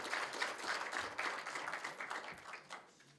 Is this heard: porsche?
no